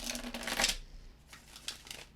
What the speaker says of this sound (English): So now what do I do? I shuffle again?